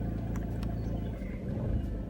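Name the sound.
Audi A4 B7 car engine running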